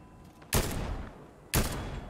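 Two loud, sharp gunshots about a second apart ring out in the Fortnite video game, each with a short decaying tail over a low game background.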